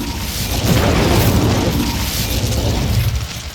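The Incendio fire spell cast in Hogwarts Legacy, a loud sustained whooshing, booming burst of flame lasting about three seconds before tapering off.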